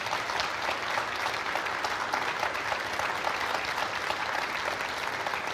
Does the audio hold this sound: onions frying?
no